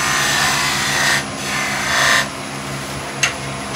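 A skew chisel cuts into a spinning wooden raised bowl on a lathe, giving a steady scraping rasp with two louder, brighter bursts of cutting over a constant motor hum.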